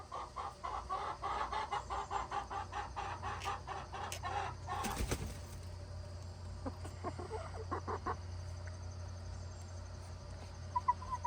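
Hens cluck and squawk in a busy, overlapping chorus that carries on throughout, with a few sharper calls standing out near the middle.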